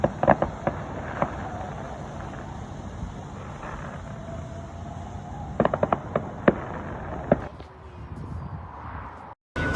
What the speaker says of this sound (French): je vois des feux d'artifice.